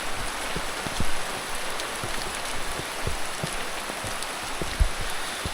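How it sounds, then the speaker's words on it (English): Steady rain pours down in Bua Province, Vanua Levu, Fiji, filling the air with a dense hiss and scattered heavier drips and knocks close by, with no talking. "waiting for the rain to pass by, but it doesn't seem like it"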